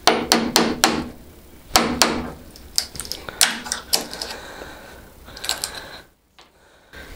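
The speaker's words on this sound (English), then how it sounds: "So get yourself a chisel and a mallet and just whack it." A steel chisel driven by a mallet into plywood beneath oak floorboards: sharp, loud percussive strikes in irregular bursts of two or three, close by, with no talking, ending in near silence.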